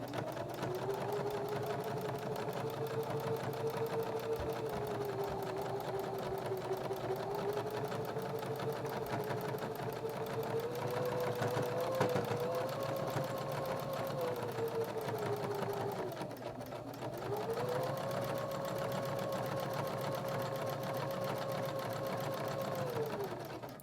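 A sewing machine runs continuously for a long top stitch around a drawstring bag, with a steady motor whine that dips briefly near the end and then resumes, with no talking.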